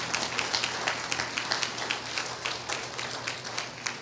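A church congregation applauds, giving a steady patter of overlapping hand claps at moderate distance with no voices heard.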